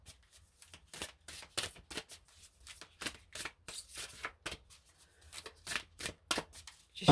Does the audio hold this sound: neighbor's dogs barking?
no